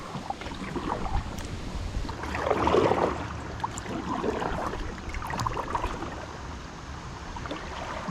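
Kayak or canoe paddling along the Looking Glass River, with soft irregular water splashes and strokes, faint and nearby against a rushing, breezy background, with no one talking.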